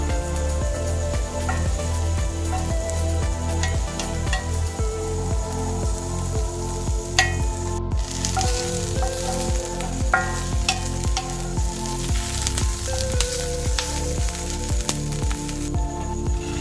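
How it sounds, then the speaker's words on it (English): Onions sauté in a hot pan, giving a loud, constant sizzle with rapid crackles and repeated stirring scrapes throughout, close by and with no voices. "add your onions and let those saute for a few minutes"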